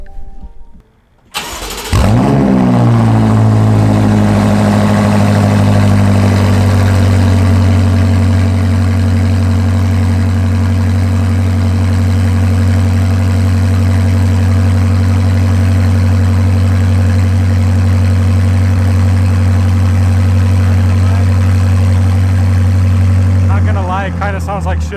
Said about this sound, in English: We're gonna do a little cold start with no exhaust, so it only has primary cats right now.